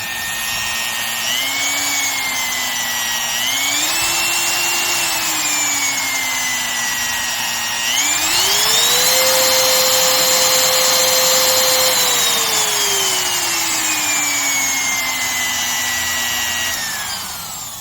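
A Bosch Colt trim router motor runs steadily for the whole stretch, its whine shifting in pitch several times as the speed changes, rising to a higher plateau midway and then easing back down, loud and close with no talk.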